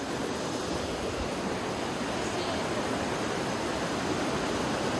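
Steady broadband rush of a waterfall at Namaste Jharna in Dharan, with low winter flow, a continuous even roar filling the scene with no pauses.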